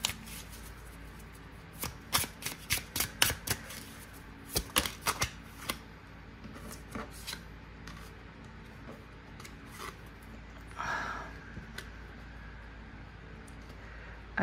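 Tarot cards handled and drawn, with a run of crisp, close card snaps and flicks in quick succession, then softer rustling and sliding; quiet room, no talk.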